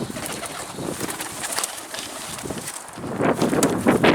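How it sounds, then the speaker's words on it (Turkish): Cooing of a bird, pigeon-like, close and fairly loud, repeated over a busy background with some rustling. "Çok enteresan bir kuş."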